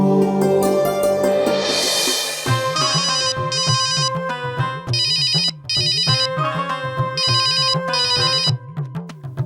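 A telephone ringtone plays a loud, bright electronic melody in a short repeating pattern, with the phrases recurring steadily until the clip ends.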